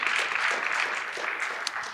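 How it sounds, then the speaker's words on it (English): An audience at a Sunday church service applauds for Valentine's Day, a dense, continuous patter of clapping from a full room that holds steady throughout. "Can we get a round of applause for Valentine's Day?"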